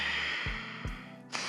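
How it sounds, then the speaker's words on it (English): Deep breathing during a yoga flow: a long, airy inhale through the nose followed by a fuller exhale, close and soft, with a couple of brief puffs and no talking. "Big breath in through your nose and a huge breath out."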